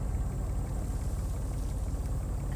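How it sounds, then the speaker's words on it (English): A diesel pump in a video game chugs continuously, a low, steady, rough mechanical rumble with a faint hiss on top and no voices. "A diesel pump choking away."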